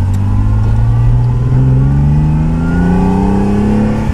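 A 1973 Ferrari Dino 246 GT in the Forza racing game revs loudly and close by, its engine note climbing steadily as it accelerates for about four seconds, with no talking over it.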